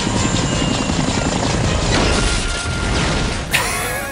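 A helicopter crashing in the action film Raptor: a loud, continuous rotor and engine roar fills the whole stretch, with a sharp burst near the end as the craft goes down.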